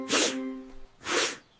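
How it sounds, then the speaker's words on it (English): Cartoon character sneezing, two breathy bursts about a second apart, the first with a voiced tone, close and fairly loud. "Achoo!"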